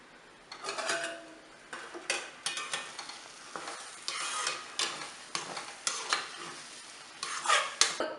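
Mango kesari is stirred in a pan with a spoon, making repeated rhythmic scraping strokes over a faint sizzle, close and fairly loud, with no talking.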